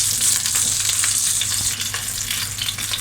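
Sausages frying in a pan, a dense continuous sizzle and crackle heard up close, with faint scraping underneath and no voices.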